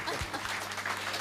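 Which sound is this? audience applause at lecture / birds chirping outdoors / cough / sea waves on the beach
audience applause at lecture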